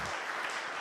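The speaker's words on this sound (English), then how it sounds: "let's give them a round of applause again" Audience applause fills the air at an outdoor honorary street sign celebration in Bloomington, a steady wash of clapping from a crowd, fairly even and continuous throughout the short burst.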